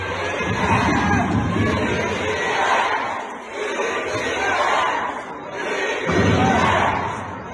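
A crowd at a birthday celebration for a vice-governor chatters and shouts steadily, with swells of cheering for a Unity candidate rising and falling across the whole stretch, dense and fairly close.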